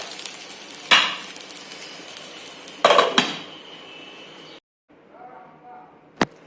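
A metal lid clanks onto a pot of raw mango rice on a gas stove in a home kitchen, with a few sharp clatters and scrapes, a brief silence, then one last crisp knock.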